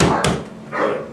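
A lively dog brought out as a distraction gives two loud, close barks in quick succession, alone and clear.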